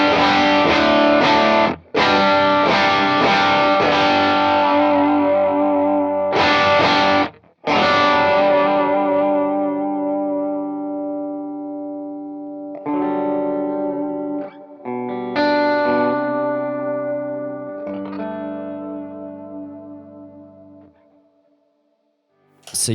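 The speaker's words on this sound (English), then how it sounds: "this is probably my favorite drive to use with already broken up amps, because it just works so well as a clean boost" Electric guitar played through a Klon overdrive pedal set as a clean boost into an already broken-up, chimey Vox-style amp, giving ringing strummed chords and sustained notes with brief gaps, alone and fairly loud, fading out at the end.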